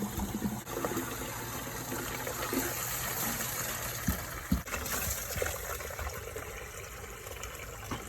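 Rainwater gushes from a pipe into a small bucket, a steady rushing, splashing pour that carries on throughout at moderate loudness, with a few knocks and no talking.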